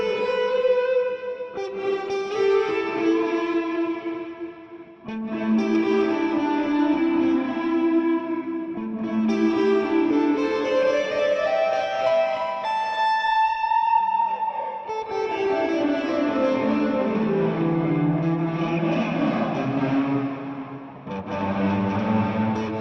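A played instrument runs through a Kurzweil KSP8 reverb-with-delay preset, sustained melodic notes sliding and overlapping with long echoing tails and repeats, loud and continuous.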